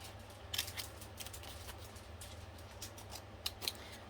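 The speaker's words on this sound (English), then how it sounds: "Take your scissors and you make yourself a little stencil. I'm just going to cut out some diamonds" Scissors snip out small diamond shapes from paper to make a stencil, giving a few soft, close cuts over a faint steady background hum, with no talk.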